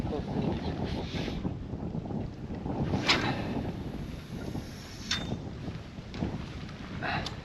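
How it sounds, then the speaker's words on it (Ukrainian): Steady wind at the mouth of the Desna River during December feeder fishing, a continuous broadband rush with gusty swells, loud and close like wind buffeting the microphone outdoors. "Піднявся вітерець"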